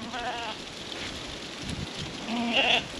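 Sheep on a farm bleat in a few close, wavering calls, with a louder bleat near the end, over a steady hiss like rain falling on a surface.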